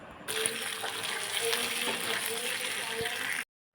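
Ginger garlic paste hits hot oil with onions that are already frying, giving a steady, close sizzling hiss that runs evenly until it cuts off abruptly near the end.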